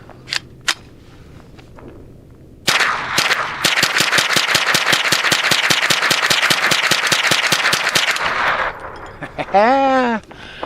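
ADLER RF224 rifle firing CCI ammunition from a Ruger 25-round magazine: a couple of single shots, then a long fast burst of loud, evenly spaced cracks lasting several seconds, followed by a short voice.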